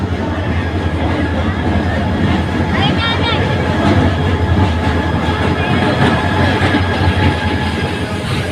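A packed Dhaka-bound passenger train on the Padma Bridge rumbles steadily with clattering wheels and car noise, loud and continuous, with crowd voices mixed in.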